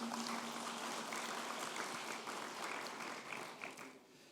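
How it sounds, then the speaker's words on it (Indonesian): Sustained audience applause fills the hall at a business summit opening ceremony, steady dense clapping from a large crowd that tapers slightly toward the end, with no talk over it. "Mari kita beri tepuk tangan yang meriah untuk mereka."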